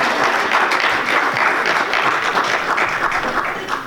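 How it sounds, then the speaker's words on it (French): A church congregation applauds loudly and continuously during an evangelistic service, a thick wash of many hands clapping close by with no speech. "Applaudieren wir für den Herrn."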